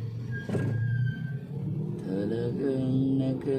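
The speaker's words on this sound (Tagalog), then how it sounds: "Traffic" Heavy Monday road traffic on the way to Naga City, with cars rumbling and engines revving steadily throughout, a brief high tone cutting through, and a voice talking over the traffic near the end.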